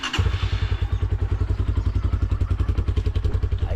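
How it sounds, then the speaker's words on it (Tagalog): A motorcycle engine warming up, idling in a steady, rapid low thumping pulse with a slightly clattery texture, close by and alone. "Kainitin lang po natin yung ating motor."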